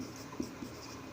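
A marker or chalk scratches briefly on a board during an electricity lecture, a soft close stroke or two over steady room hum.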